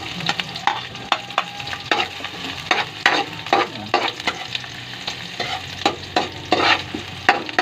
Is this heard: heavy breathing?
no